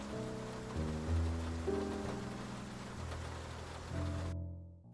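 Steady rain falling at night in the noir adventure game Face Noir, a constant hiss under low droning music, ending abruptly.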